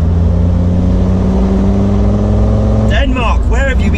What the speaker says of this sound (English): I've been enjoying the experience of driving this car and the noise as well so much